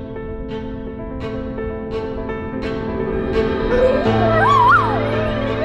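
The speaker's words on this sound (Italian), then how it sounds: "in sottofondo non avete sentito anche voi un Giuseppone abbaiare, un cane" A dog howls and whimpers in the background, drawn-out wavering cries rising in pitch, over a steady hum and faint music.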